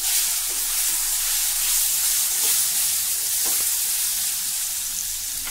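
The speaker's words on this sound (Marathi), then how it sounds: "4 ते 5 कढीलिंबाची पानं किंवा कढीपत्त्याची पानं घालूया, चिमूटभर हळद, पेरूच्या फोडी घालणार आहे" Curry leaves, turmeric and guava pieces sizzle loudly in hot oil, a dense, constant spitting hiss close up with a few faint stirring knocks underneath.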